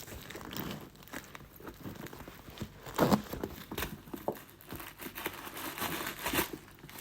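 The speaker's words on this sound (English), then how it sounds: "And the stuffing is removed." Soft crinkling and rustling of paper stuffing being pulled out of a backpack and crumpled, in quiet irregular bursts with a louder crunch midway.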